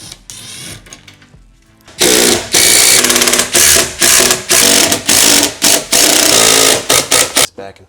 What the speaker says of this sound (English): you're just going to drive this bolt into the nut